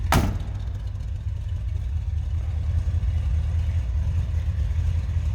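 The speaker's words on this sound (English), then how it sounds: "Slip around to the back so you can hear this car run." A 1964 Buick Riviera engine idles steadily from behind the car, a deep, even low rumble after a brief sharp click at the start, with no voices.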